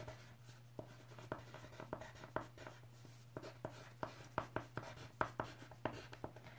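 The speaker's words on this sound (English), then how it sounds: "So I'm going to write it here for you." Pen writing by hand on paper at a stamping and craft table, a quiet, close run of quick scratchy strokes in uneven bursts over a low steady hum.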